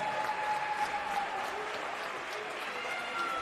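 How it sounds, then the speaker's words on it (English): Crowd applause for the Maple Creek basketball team after a championship game, a moderate, continuous patter of clapping heard somewhat distant, with a faint voice mixed in underneath. "Let's have a nice round of applause for Maple Creek."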